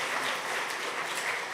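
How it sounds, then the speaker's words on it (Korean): Congratulatory applause from a church congregation during a Sunday service, a short burst of steady, dense clapping from many hands filling the room. "잠깐 자리에서 일어나시면 축하 박수 하겠습니다."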